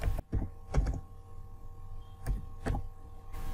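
Keys tapped on a computer keyboard, a few separate clicks and short bursts spread across the moment, close by against a steady low hum.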